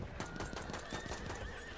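A horse in a video game whinnies loudly with a long, shaky neigh and hoofbeats clopping beneath it, set against dense game noise.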